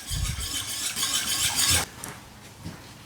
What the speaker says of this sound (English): whisk this honey, this water honey mix, until it's completely incorporated